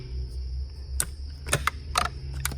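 A screwdriver pries at the plastic air box clip on a Chevy Impala with a 3.6 LFX engine. Several sharp plastic clicks and snaps sound close up over a low hum, with no one speaking.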